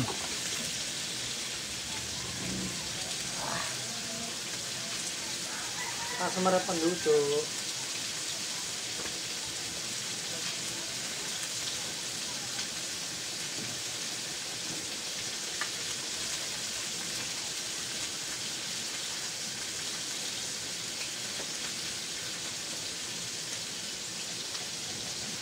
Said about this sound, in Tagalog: Ayan, tag-ulan.